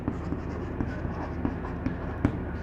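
Chalk or marker writing a chemistry formula on a board during a Hindi-language haloalkane nomenclature lesson, a steady scratch with about six sharp taps as strokes begin, close and moderately loud with no talk.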